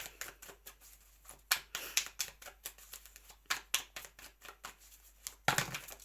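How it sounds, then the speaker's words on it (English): Tarot cards being shuffled, a quiet run of irregular papery flicks and riffles with sharper bursts now and then, close and alone with no voices. "We've got a bunch, but let's shuffle one more time."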